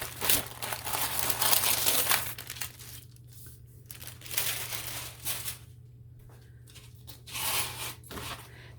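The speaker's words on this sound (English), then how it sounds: "Of course, I use parchment paper." Parchment paper crinkles in a kitchen while diamond painting canvases are sealed, coming in several separate bursts of crisp rustling with quiet pauses between them.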